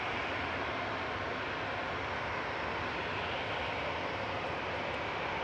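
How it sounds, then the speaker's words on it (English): A Qatar Airways airliner comes in to land at Manchester Airport, its jet engines producing a loud, steady roar throughout with no other sounds standing out. "Qatar's just coming in. So we get Qatar landing"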